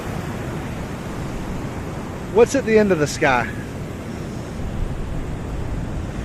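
Ocean waves wash steadily onto the shore in a constant broad hiss, with someone speaking briefly over the surf.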